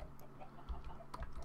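Minecraft chickens give a few quick, soft in-game clucks over a faint low hum, brief and spaced out across a second and a half.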